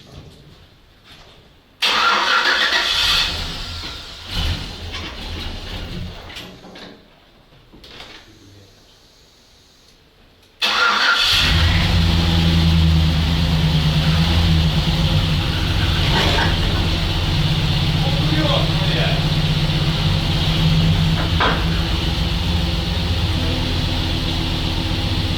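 ZIL-131 truck fitted with a Chevrolet engine and automatic transmission turns over and fires, settling into a steady loud idle and rolling off for its first meters outdoors, after a quiet stretch with faint shuffling and low voices.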